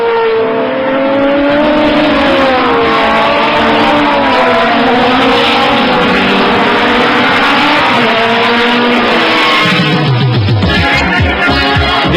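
Renault 21 Turbo Superproduction race car from 1988 at speed on the Le Castellet circuit, its engine loud and close throughout, revving up and down through gear changes with a brief tire squeal near the end.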